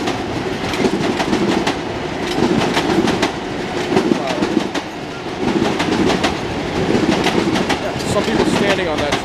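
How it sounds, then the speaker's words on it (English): A Huntington branch commuter train rolls past close by, a steady loud rumble with rhythmic clickety-clack of wheels over rail joints throughout, with voices talking over it. "let's watch this train go by"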